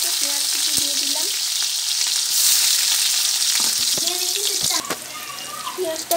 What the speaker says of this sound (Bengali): তেল গরম হয়ে গেছে, পেঁয়াজ কুচি দিয়ে দিলাম।